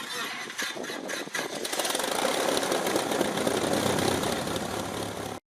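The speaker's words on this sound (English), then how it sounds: "This engine has excellent compression numbers and starts right up." A Cessna Cardinal 177 aircraft engine in good compression cranks and catches, then settles into a steady, close, rumbling run with a fast even beat that holds until it cuts off abruptly.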